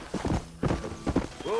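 Horse hooves clip-clop over rough ground in the Red Dead Redemption video game as the horse climbs uphill, with a voice talking over the steps and a short whinny-like sound near the end.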